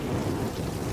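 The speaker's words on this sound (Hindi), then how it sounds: "ये बारिश तो छूटने का नाम नहीं ले रही है" Heavy rain pours down steadily, a thick, constant roar with deep low rumbling that suggests thunder, loud and continuous with no voices.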